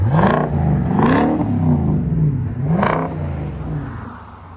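A 2020 Nissan Armada 5.6L V8 with Magnaflow Magnapack dual exhaust revs three times in a row outdoors in freezing weather, each blip rising sharply and then falling back to a deep burbling idle.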